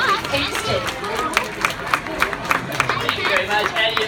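An audience at a zoo sea lion show claps and cheers in a lively burst of applause with chatter, sharp claps popping through a crowd murmur while a presenter talks over it.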